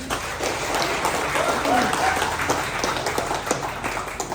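An audience applauds steadily at a declaration event in Bandung, a dense continuous wash of clapping from a crowd, with a voice faintly under it.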